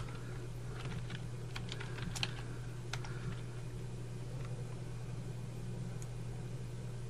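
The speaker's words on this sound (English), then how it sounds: "Then type in the text that you want." Soft, quick typing on a computer keyboard, scattered light key clicks over a steady low hum, faint and fairly close.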